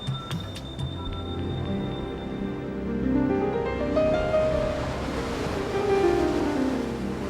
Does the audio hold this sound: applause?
no